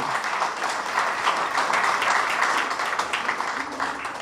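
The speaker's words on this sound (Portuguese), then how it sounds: "Clarete merece aplauso" Steady audience applause for Clarette, a dense continuous wash of many hands clapping that holds at an even level throughout with no break.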